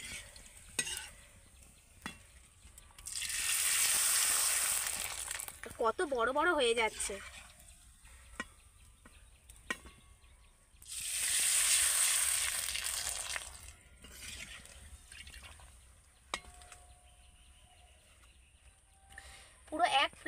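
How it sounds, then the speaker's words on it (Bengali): Raw potato papads hit hot oil in two loud bursts of hissing sizzle, each fading over a few seconds, with stirring clinks between and someone talking over parts of it. "আলুর পাঁপড়গুলো কিন্তু কয়েক সেকেন্ডের মধ্যে ভাজা হয়ে যাবে।"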